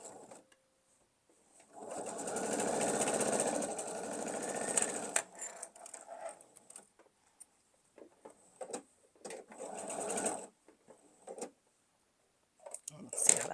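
A sewing machine stitches a triangle in a gravity quilt block: a close, steady whirring run of about three seconds, then short bursts of stitching mixed with handling noise and quiet gaps.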